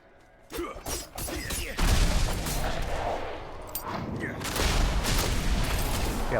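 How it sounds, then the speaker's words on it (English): Shadow Imbuement rogue attacks in Diablo 4 set off rapid bursts of explosions, cracking and crashing impacts layered into a dense, loud barrage that barely lets up. "See how things just explode."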